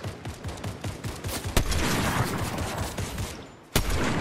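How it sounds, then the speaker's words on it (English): Gunfire in a Fortnite match, a dense rattle of repeated shots with two sharp, louder cracks standing out in the barrage, and no talking. "And someone's shooting at me anyways."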